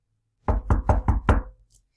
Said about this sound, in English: Mr. Happy knocked on the door.